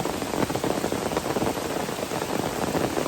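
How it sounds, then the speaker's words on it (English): Steady outdoor rain pours down beside a river during a fishing outing, a dense continuous hiss of drops on surfaces with no voices. "That's that real rain."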